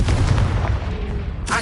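A Confringo spell blast goes off in Hogwarts Legacy as a loud, close burst of booming, crackling impact noise, followed by a fainter whooshing tail.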